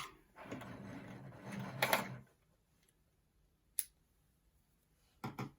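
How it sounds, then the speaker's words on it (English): A sewing machine runs in a short burst of rapid stitching, then stops; a few clicks and a brief whir follow in a quiet room. "Just go forward a few more stitches."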